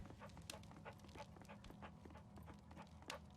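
Toby the dog pants in the Sherlock Holmes: Crimes & Punishment video game, a quick, steady run of breathy huffs close up and fairly soft, with faint footfall-like taps underneath and no talking.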